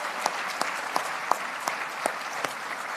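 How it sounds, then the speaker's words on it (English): At a Chief Wilma Mankiller Barbie event, an audience applauds her, steady clapping with a few sharper individual claps standing out above the crowd. "let's have a round of applause for Wilma Mankiller"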